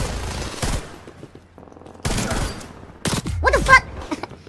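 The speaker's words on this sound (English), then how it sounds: "People shooting at me the moment I spawn." Call of Duty gunfire and explosions erupt in three loud, dense bursts separated by short lulls, the last burst mixed with sharp ricochet-like whistles.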